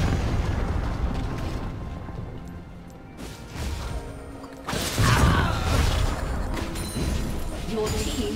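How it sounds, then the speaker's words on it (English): Turret destruction in League of Legends: a muffled crashing, rumbling burst of game effects rises sharply midway through a busy, continuous mix of battle noise, with an announcer-style voice present. "Destroyed a turret."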